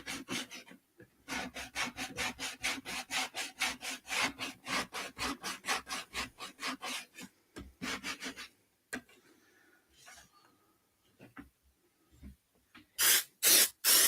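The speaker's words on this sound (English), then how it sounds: "I do want to spray it." Rapid bursts of spray aimed at a wooden name plaque, a long rhythmic run of short hissing pulses, fairly close, then quieter rustling and a few more loud bursts at the end.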